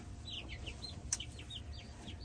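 Chicks in a brooder being moved outside give soft, repeated high chirps and clucks, scattered and fairly close over a low steady background hum.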